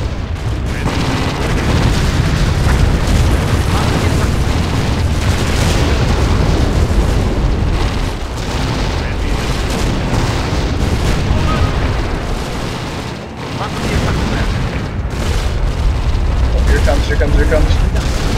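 In the strategy game Empire Earth, V2 rockets explode amid anti-aircraft fire: dense, continuous rumbling booms and bursts fill the scene while people talk over the battle noise.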